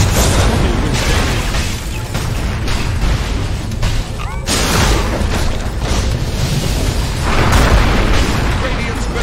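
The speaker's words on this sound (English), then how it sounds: "Radiant's middle tower just keeled over." Game sounds from Dota 2 as the Radiant middle tower collapses: dense, loud booms and bursts keep rolling for several seconds in a busy battle mix, with voice lines heard over the din.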